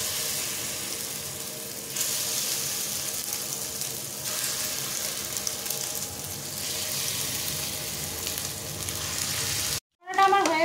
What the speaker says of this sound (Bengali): এবারে আমি চিকেন পকোড়াগুলো একটা একটা করে ছেড়ে দেবো